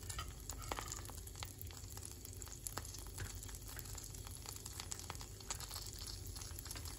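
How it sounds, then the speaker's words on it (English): Pieces of ginger fry and brown in a pan for a Gujarati spinach kadhi, making a faint, steady crackling sizzle with small pops throughout and no voices. "Ginger takes longer to cook than garlic, so I will let the ginger brown a little bit before I add the garlic."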